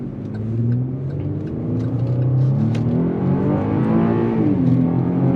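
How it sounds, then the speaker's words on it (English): A V6 Chevy pickup truck engine revs up and accelerates hard, its droning roar rising steadily in pitch and staying loud and close throughout. "let's do a quick acceleration test while we're at it"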